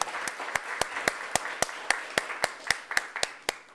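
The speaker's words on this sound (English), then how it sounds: "let's give a round of applause from Western" At a school board meeting, an audience claps in an evenly spaced, rhythmic beat, about four claps per second, over a low murmur of background noise.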